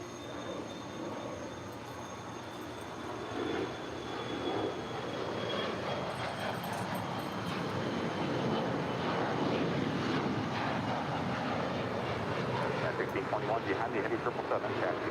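Atlas Air airliner going around at LAX, a rising roar of jet engines building steadily and staying loud near the end, with voices talking over the engine noise.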